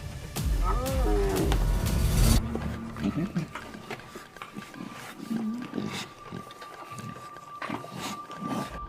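Serengeti lions growling and roaring in the wild: a deep, loud roar opens, then lower rumbling grunts and calls continue over outdoor ambience, with a narrating voice running throughout.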